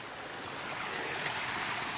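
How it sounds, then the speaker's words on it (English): A waterfall in Hickory Nut Gorge gives off a steady, dense rush of falling water, continuous and fairly loud, with no voices over it. "It's a waterfall up here, as you can see."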